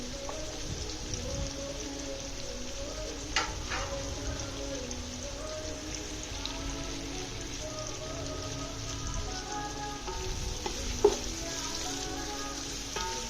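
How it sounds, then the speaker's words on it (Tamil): Ingredients for chicken biryani frying until brown in a pan give a faint, steady sizzle with occasional clinks, heard at a distance under low room noise. "இது நல்லா வந்து ப்ரௌன் கலரில் மாறணும், அது வரைக்கும் நல்லா ஃப்ரை பண்ணிக்கணும்."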